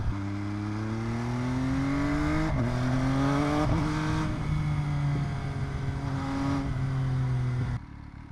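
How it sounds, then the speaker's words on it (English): A super sport motorcycle at top speed, around 180, its engine holding a loud, steady high-revving drone with a few brief gear-shift dips before it cuts off near the end. "180. 180 on the Yeah. pretty good. It's a super sport bike."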